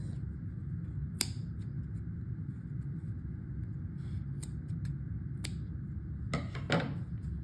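Scissors snipping off a yarn tail on a sewn-on amigurumi ear, a few sharp isolated snips close by, heard over a steady low rumble of background noise.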